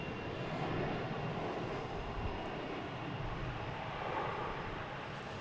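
Air Canada jet airliner at Boston Logan Airport, a continuous loud engine roar and rumble that holds steady throughout, with no talking.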